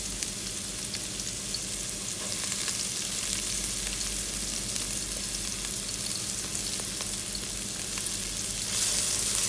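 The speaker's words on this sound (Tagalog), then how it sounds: "Lagyan na natin sa mainit na mantika yung sangkap" Tomato, onion, garlic and chili sautéing in hot oil give a steady, dense sizzle and crackle that runs for the whole stretch, close and even in loudness, with faint stirring and no voices.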